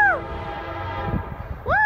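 Amtrak Cascades passenger train passing with its horn sounding loud and near at the start and again at the end, a rumbling roll of railcars filling the stretch between the two blasts.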